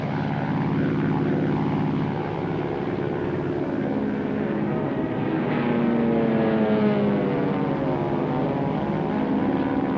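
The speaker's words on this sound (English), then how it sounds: "The shelling stopped as 120 carrier planes set off to strafe the island with" Propeller-driven carrier planes over an island in the Second World War, at Iwo Jima, give a loud, steady engine drone that swells and shifts in pitch as they pass, with no voices.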